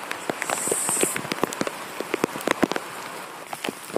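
Rain falling in a village, pattering steadily on nearby surfaces with scattered sharper drops and a brief high whine early on.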